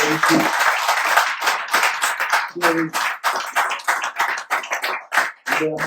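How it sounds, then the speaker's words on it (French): A conference audience applauds in bursts of dense clapping, loud and close, with brief pauses and a few voices between. "S'il vous plaît, un applaudissement pour tout le monde."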